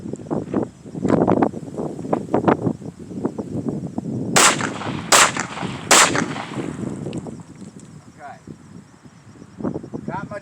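Pistol fire during a two-to-the-chest, one-to-the-head shooting drill: three sharp, loud shots, the first two close together and the third after a short pause, ringing out outdoors over wind and rustle while someone talks before and after.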